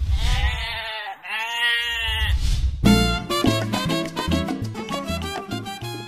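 Goats, small ruminant livestock raised for milk or meat, give two long wavering bleats close by, and melodic music follows.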